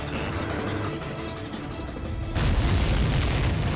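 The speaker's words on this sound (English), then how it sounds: "The missile hit its target. Everybody, keep a safe distance to avoid getting caught in the explosion." A missile strikes its target in the flight combat game Ace Combat 7, with a steady roaring background suddenly giving way to a loud, deep, sustained explosion boom that rumbles on to the end.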